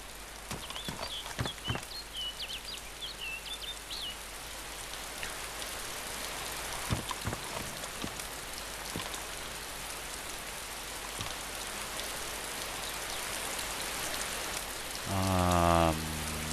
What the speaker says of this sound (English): I'm still getting thunder and rain out of a clear blue sky.